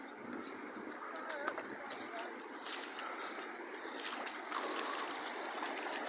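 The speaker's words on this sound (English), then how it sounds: "Look at this. Water going on the bridge." Floodwater from heavy rain flows over a road and a bridge at a flooded creek and drain, a steady rushing wash with faint, indistinct voices underneath.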